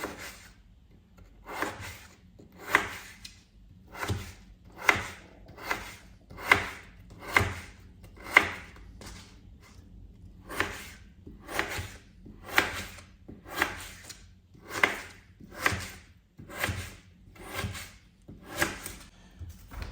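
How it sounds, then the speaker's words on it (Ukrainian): A knife chops potatoes on a board for mushroom soup in a home kitchen, a steady run of about twenty crisp, evenly spaced cuts close by with no talking. "Зараз буду нарізати картоплю."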